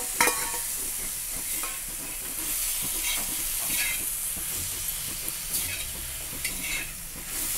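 Chili, garlic and cumin roasting with turmeric in a pan for ridge gourd chutney, with a steady sizzle and hiss and scraping stirring strokes throughout, close and continuous.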